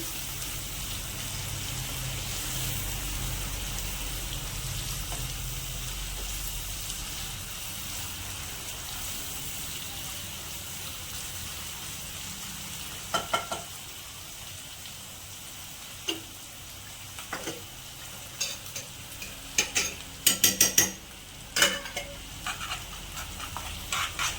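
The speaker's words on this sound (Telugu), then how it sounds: "ఆనియన్ వేగుతుంది" Onions sizzling in a hot pan, a steady soft hiss of frying that later gives way to a few sharp clinks and stirring knocks near the end.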